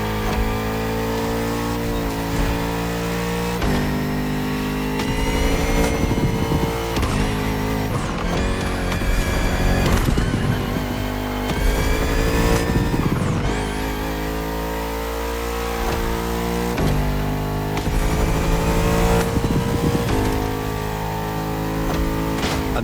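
A Bugatti Vision GT hypercar in The Crew Motorfest roars loudly up through the gears, its engine pitch climbing and dropping repeatedly with sharp shift cuts and revs across a sustained high-speed run.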